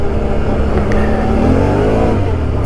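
A Can-Am Outlander 650 XMR ATV engine revs hard and loud up close, its pitch climbing and wavering as the tires spin without grip on hard-packed ground, with a continuous roaring drone throughout.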